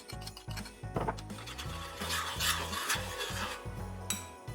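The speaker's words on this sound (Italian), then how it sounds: "incorporiamo le vongole" Clams being stirred into a breadcrumb mixture in a cocotte dish for gratinated clams, giving close gritty scraping and rubbing with repeated shell clicks and clatters in an uneven rhythm, with no talking.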